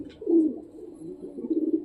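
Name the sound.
wild pigeon cooing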